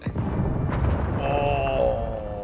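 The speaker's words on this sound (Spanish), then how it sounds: "Escuché una explosión." A low, rumbling explosion booms in the strategy game Age of Empires IV, followed by game tones and effects over continuous background sound, with no speech.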